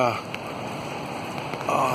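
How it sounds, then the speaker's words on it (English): Rain falls steadily outdoors on an overcast day in China, a broad, even patter with scattered drops, heard close and continuous with some faint voice-like sound at the edges. "it's raining"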